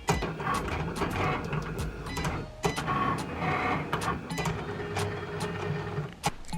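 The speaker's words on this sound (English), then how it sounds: "Then press the Go button and let your Cricut machine do its thing." A Cricut machine cuts iron-on vinyl, its carriage motor whirring and buzzing continuously up close with repeated clicks and brief pauses as the blade moves back and forth.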